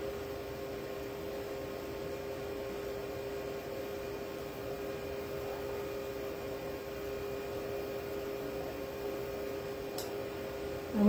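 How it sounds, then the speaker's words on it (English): An electric fan runs steadily indoors, giving a smooth, even whoosh of white noise with a faint constant hum, unchanging throughout and with no voices. "I like the white noise of the fan."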